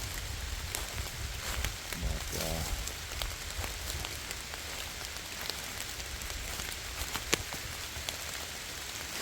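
Steady rain patters outdoors across a graveyard, a dense, even hiss of drops on surfaces with a few louder splats, continuous and fairly close, with no voices.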